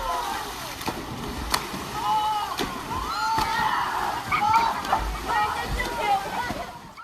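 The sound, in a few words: water splashing during a water polo game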